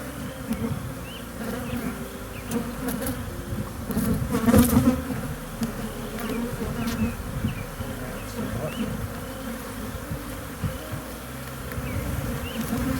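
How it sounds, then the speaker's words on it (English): A dense, continuous hum of many honeybees buzzing close by during a beehive split, with individual bees droning past now and then. "This is a lot of bees."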